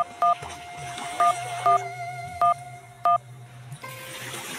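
Push-button telephone dialing in a radio drama, five short, crisp two-tone keypad beeps spaced about a second apart over a low background hum, followed by a faint rustle.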